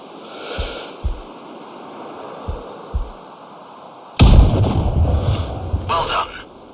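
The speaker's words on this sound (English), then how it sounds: "Now, shoot this target." A single loud, sharp sniper rifle shot rings out in Sniper Ghost Warrior Contracts and is followed by a rolling echo. Soft thuds and steady wind-like ambience come before it.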